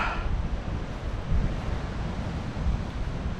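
Steady wind buffeting an exposed spot near the shore, with a broad roar of surf and water underneath, loud and continuous with gusty swells and no talking.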